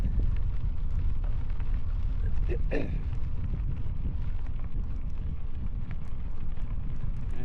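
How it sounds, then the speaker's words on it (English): A light headwind from the west buffets the microphone on a bike ride across open country, giving a steady low rumble throughout with a brief brighter gust partway through. "We still have that light headwind out of the west"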